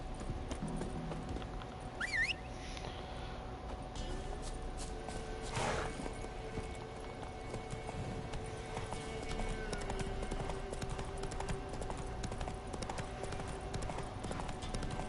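Hooves of Roach, the video game horse, clip-clop in a steady trotting rhythm, moderately close, with a brief whinny early on and faint game ambience behind.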